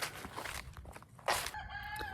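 Chickens at a backyard coop built from pallets and metal roofing: a rooster's crow rises sharply in the middle, with scattered clucking and rustling, moderately close and fairly quiet.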